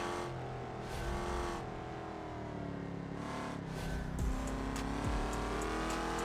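A powerful BeamNG racing trophy truck engine revving hard and climbing through its gears, loud and close, with pitch sweeps at each shift and a brief tire squeal.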